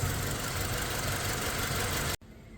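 Up close, a Toyota Fortuner engine idles roughly with one cylinder misfiring, the fault traced to rat-chewed wiring. Its low, uneven chug with knocking pulses runs steadily, then cuts off abruptly near the end.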